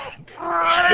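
A cat gives a short, close, drawn-out meow lasting about a second, rising and wavering, with no talk over it.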